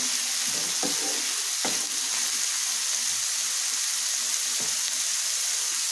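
Vegetables fry in a hot pan with a loud, steady sizzle throughout, broken by a few soft knocks and clinks from stirring.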